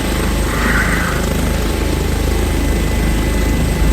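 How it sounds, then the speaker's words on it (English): An EMS rescue helicopter's rotor thumps steadily close by, a loud continuous low churning drone with no voices over it. "Good looking helicopter here."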